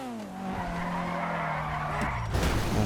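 A front-wheel-drive Honda Civic skids as its back end kicks out, a long rising tire squeal over engine drone that holds for about two seconds, then breaks into a rougher scrub near the end, with no talking.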